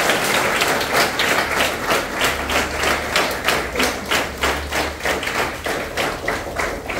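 A crowd at a birthday gathering welcomes guests with loud, sustained applause, the many hands falling into a rough, pulsing rhythm for several seconds.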